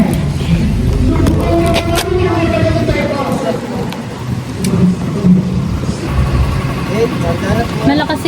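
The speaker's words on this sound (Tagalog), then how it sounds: "Pinaandar yung bangka." A boat engine starts, rumbling and revving steadily throughout, with people talking loudly over it, during a trip in Bataan, Philippines.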